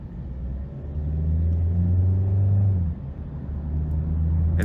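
Cabin view of a 2023 Hyundai Sonata Hybrid Blue, 2.0 non-turbo four-cylinder hybrid, pulling hard in sport mode, with a low, steady engine drone building in pitch, a brief dip, then climbing again.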